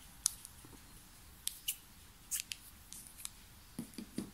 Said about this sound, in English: Now cut the yarn.